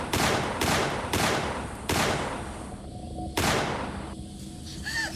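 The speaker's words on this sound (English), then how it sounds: "He is shot 6 times in the head." Six gunshots fired at a person, heard as a series of loud, booming, reverberant blasts at irregular intervals over a dense dramatic backdrop, with a faint ringing tone near the end.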